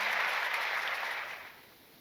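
Audience applause at a Hindi kavi sammelan poetry recital, a broad wash of clapping that starts full and steady, then thins and fades over the last half-second, with no voices over it.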